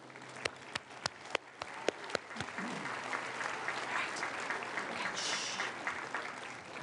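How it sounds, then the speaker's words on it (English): A few sharp, separate claps open, then swell into a dense round of applause from a commencement convocation audience, moderately loud and sustained to the end. "just give them a round of applause"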